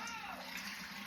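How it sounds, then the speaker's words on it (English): Water pours steadily out of a container of corned beef that has soaked overnight, a continuous close splashing gush with no break. "I'm gonna drain this water out of here. I'm gonna drain it on out."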